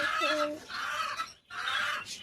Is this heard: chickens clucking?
yes